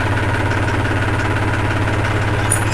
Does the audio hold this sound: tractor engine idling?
yes